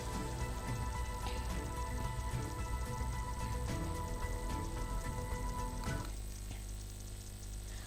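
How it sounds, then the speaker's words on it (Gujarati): Heavy monsoon rain in northern India pours down in a steady, dense hiss, continuous and loud from start to finish with no voices. "ચોમાસું ફરી સક્રિય થવાને કારણે ઉત્તર ભારતમાં ભારે વરસાદ પડી રહ્યો છે"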